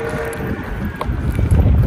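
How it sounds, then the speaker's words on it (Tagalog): Wind blows outdoors in Japan, buffeting the microphone with low rumbling gusts that grow stronger toward the end, with no talk. "Mahangin pa."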